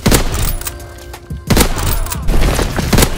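Lever-action sniper rifle firing in Call of Duty WW2, loud booming shots with a sharp report near the start, a heavy hit around the middle and continued gunfire rumble, close and dense with no speech.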